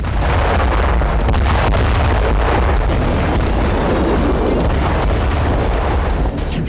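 A loud, sustained roaring rumble like a large explosion or blast, heavy and continuous throughout with wind-like noise over it.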